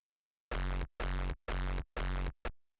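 A rawstyle kick drum run through EQ and distortion strikes four times in a steady rhythm, each a loud, dense, gritty boom, then a brief cut-off fifth hit, with clean silence between beats.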